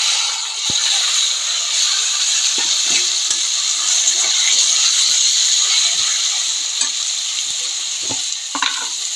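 Taro leaves (kochu shak) hitting a hot pan set up a loud, steady sizzle and hiss throughout, with faint scraping stir clicks scattered on top and no talking.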